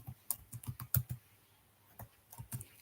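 Typing of Python loop code on a computer keyboard, quiet and close, irregular bursts of key clicks with a few louder taps and short pauses between them.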